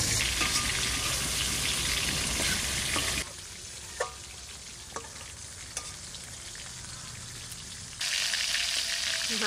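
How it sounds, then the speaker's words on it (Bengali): Big Sundarbans river fish pieces fry in oil in a wok with a loud, dense, continuous sizzle that drops to a quieter hiss midway, broken by a few sharp pops, then surges back up. "মাছগুলো চাপাইছি তো কড়াইতে কিন্তু শক্ত শক্ত হয়ে গেছে।"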